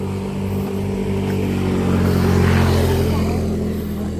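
A motorcycle engine drones steadily nearby, swelling slightly as it passes, with no talk over it.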